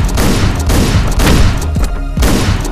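Gunfire in the Hotline Miami video game, loud rapid bursts of shots in close succession with short gaps, punchy and near throughout.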